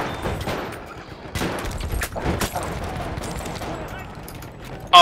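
Scattered gunfire cracks through a Battlefield match, several sharp shots and short bursts at an uneven pace over steady battle noise, with a voice speaking through parts of it.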